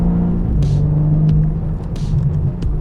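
A steady low BMW M4 Competition engine drone played through the car's speakers, with a faint whine on top, continuous and fairly loud, with a few soft clicks over it.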